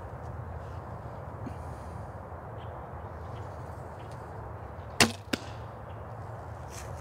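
An arrow fired from a bow at about 15 yards strikes its target with a sharp, sudden thwack, followed by a second smaller impact, against a quiet outdoor background with faint birds.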